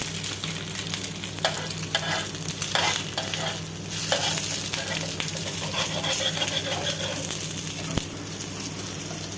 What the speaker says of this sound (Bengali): অল্প তেল দিয়ে ডিম পোস্টটা করবো।